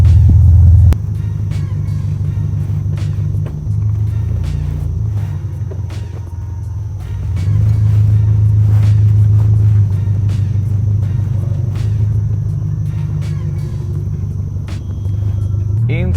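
A 2004 Subaru Impreza GD S203 is heard from inside while driving, a loud low engine rumble that shifts in pitch as it accelerates, with faint clicks and creaks over it.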